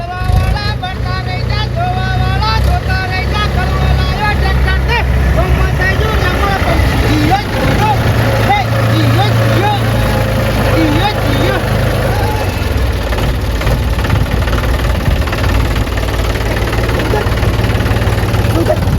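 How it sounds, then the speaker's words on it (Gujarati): A tractor engine idles steadily and loudly throughout, a continuous low rumble with people talking over it in a rural comedy scene. "અલે મારું ટ્રેક્ટર છે તો બંધ કરું કે ચાલુ રાખું"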